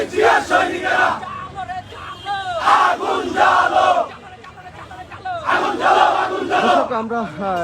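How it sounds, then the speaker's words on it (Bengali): Protest crowd chanting BNP political slogans in bursts, many voices rising together in loud rhythmic shouts, pausing between rounds of chanting. "এই মুহূর্তে দেখছি যে বিএনপির বিভিন্ন স্লোগান দেওয়া হচ্ছে"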